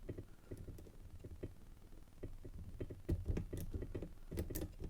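A lock pick works the pins of an ABUS Extra Classe euro dimple lock, giving faint, irregular metallic ticks and small clicks up close, scattered across a quiet background.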